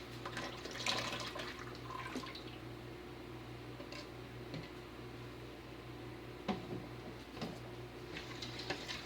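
Hot lye solution is poured into cold soap-making oils for cold process soap, a soft continuous liquid trickle over a steady low background hum, close but faint.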